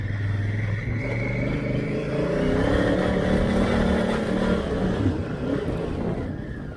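A motorcycle with traction control off, climbing a steep track in first gear on a Pilbara outback trip. The engine labours loudly and steadily, swells mid-climb, then eases slightly at the end, with no voices.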